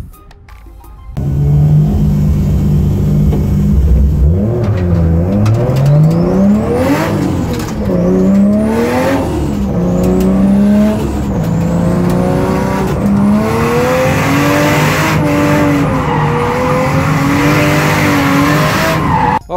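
A drift car with a 350Z engine and drivetrain swapped into a short-wheelbase Polo chassis revs hard and slides, a loud continuous engine howl rising and falling with tire squeal throughout, close and sustained.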